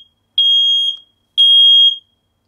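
A Nest Protect smoke alarm sounds its test tone: two loud, piercing high beeps of about half a second each, evenly spaced, with silence between.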